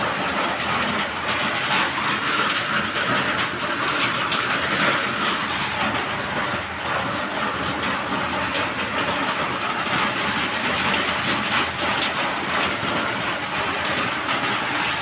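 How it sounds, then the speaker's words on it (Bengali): Heavy downpour of monsoon rain, a dense continuous hiss and patter filling the whole stretch at steady loudness, with no voices. "মুসলধারা এখন বৃষ্টি হচ্ছে"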